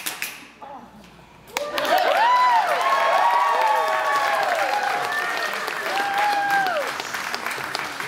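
An audience bursts into applause for a mentalist's stage routine, loud and sustained after a quieter start, with whoops, cheers and tonal sliding sounds mixed into the crowd noise.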